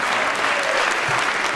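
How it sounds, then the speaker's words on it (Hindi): An audience at a Hindi comic poetry show claps in a dense, steady burst of applause that holds evenly throughout. "एक बार तालियां हो जाएं।"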